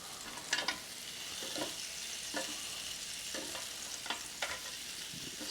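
Lamb chops sizzle steadily on a Ninja Foodi Smart XL grill, a constant close frying hiss broken by several short scraping clicks as the chops are turned over, with no talking.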